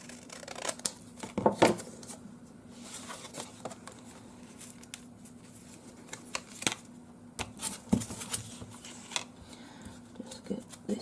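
Scissors snipping something off during a crafting process, a series of soft, close clicks and rustles scattered over several seconds in a quiet room, with no speech.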